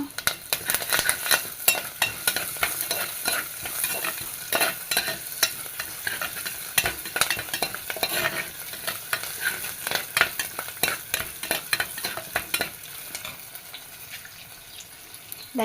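Ginger, garlic, green chilli and curry leaves frying in a pan, a steady close sizzle broken by frequent sharp scrapes and clinks of a spoon stirring throughout.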